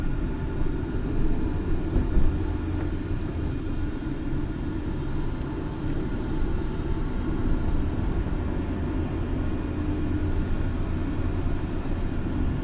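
A Kawasaki 300 motorcycle pulling away from a dead stop, its engine note a steady, continuous rumble up close with wind noise over it, climbing gently without distinct gear changes.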